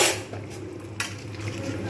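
A lid is set onto a cooking pan of vegetarian potato, pointed gourd and paneer curry, giving a brief metallic clatter near one second over a steady low kitchen hum, close and moderately loud.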